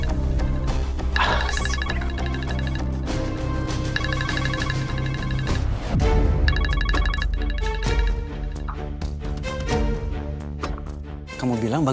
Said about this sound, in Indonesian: tapi aku dengar suara handphonenya di sini loh.